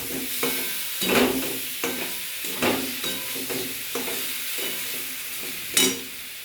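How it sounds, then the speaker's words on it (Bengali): Masala sautes in a pan for a rui fish curry, a moderate sizzle under repeated rhythmic spatula scrapes and stirs about once a second, ending with a sharper clink. "ভালো করে কষিয়ে নেব"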